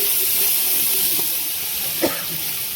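Green chili paste hits a hot pan while cooking stuffed pointed gourd dorma with prawns, giving a steady, loud hissing sizzle with a brief sharper spatter near the end.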